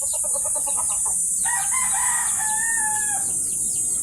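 Backyard chickens cluck in quick rhythmic bursts, followed by a drawn-out rooster crow at moderate distance, over a constant high insect-like drone.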